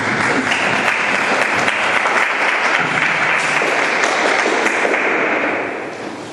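Sustained applause from a large church congregation during a sermon, dense and loud throughout, fading slightly near the end.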